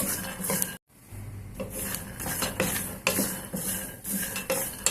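Groundnuts dry-roasting in a pan are stirred with a utensil, giving close, dry scraping and rattling. The sound comes in uneven sweeps with a brief silent gap near the start and no voices.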